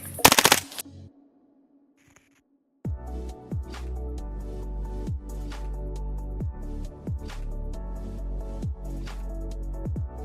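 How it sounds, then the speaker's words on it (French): Marui MP7 airsoft gun with a T238 Griffon tracer, a short burst, a silent pause, then a long sustained stretch of rapid full-auto firing with a steady mechanical rattle, close and fairly loud. "T238 Griffon sur MP7 Marui avec effet de flamme."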